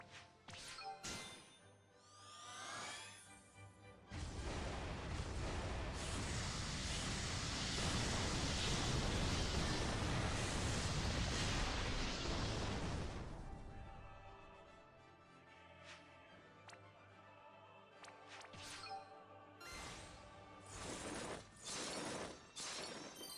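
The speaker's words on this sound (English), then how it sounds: "So many explosions." Explosions go off in a Final Fantasy Brave Exvius battle: a long, heavy, roaring blast swells and fades over several seconds, framed by sharp chimes, clangs and crackling effects before and after.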